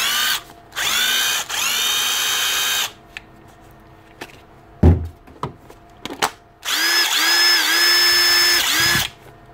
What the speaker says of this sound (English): An old 18 volt Bosch drill set, drill and impactor.